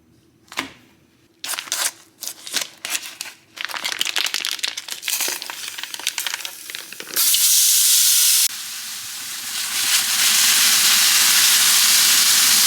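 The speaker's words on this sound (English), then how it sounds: "So I'm gonna cook up some ground beef so that I have that ready for tomorrow after my morning workout." Ground beef sizzles in a pan during evening meal prep, starting with scattered crackles and stirring clatter, then swelling into a loud, continuous hiss of frying meat.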